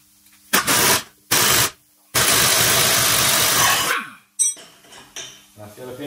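An air compressor runs in loud bursts during a mechanical repair: two short blasts and then a longer sustained rush, followed by quieter clinks and rattles of metal parts and tools.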